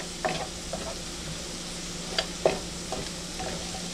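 Radish greens sauté in butter in a pan with a low, steady sizzle, broken by a few light scrapes and taps as they are stirred.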